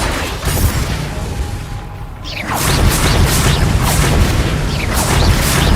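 Explosive spell effects in the video game Hogwarts Legacy, a loud rumbling blast that erupts after a brief lull and rolls on with crackling debris and whooshing magic bursts.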